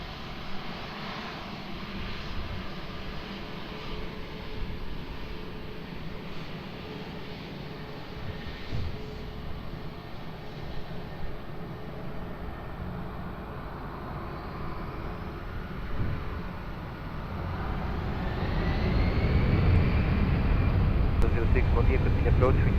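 An airliner takes off from Lisbon Airport, its jet engines building from a distant hum to a loud roaring rush that swells toward the end, under faint radio chatter.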